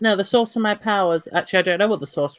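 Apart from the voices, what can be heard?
No everyday noises stand out.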